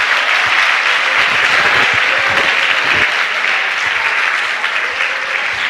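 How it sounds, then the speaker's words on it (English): A seated audience at an education talk gives a loud, sustained round of applause that fills the room evenly from start to finish, with no voices standing out. "And everyone give them a big round of applause."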